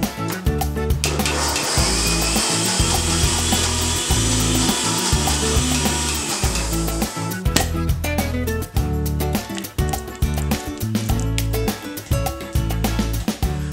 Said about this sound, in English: let's give the chutney a quick grind